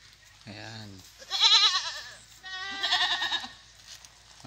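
Goats, including a small kid, bleat out in the rural countryside: three close, wavering bleats in a row, the later two louder and longer, over faint background ambience.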